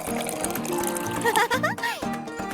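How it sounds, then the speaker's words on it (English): Water poured into a vase in a playful slime-making setting, a bubbling, rising fill sound with gurgling pitch sweeps over background music. "Looks like it's time to water our vase."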